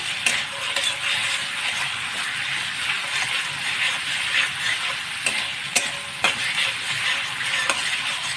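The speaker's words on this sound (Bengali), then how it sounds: "এটাকে একটু ভাজা হতে দেবো কিছুক্ষণ" Spice paste for a Bengali bottle gourd and mung dal dish sizzles and fries steadily in a pan, a continuous bright hiss with occasional faint scraping clicks of a spatula.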